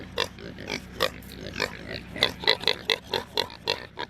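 Pigs grunt and oink in a farm pig pen, a rapid series of short, close snorts and grunts with uneven rhythm that grows busier toward the end.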